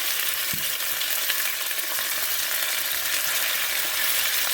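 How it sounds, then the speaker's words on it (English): Deer meat sizzles and crackles steadily in a hot pot, a dense, continuous frying hiss with an occasional stir or clink. "And get your meat good and fried up."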